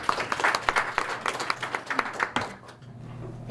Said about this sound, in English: So if we can give Teresa a little round of applause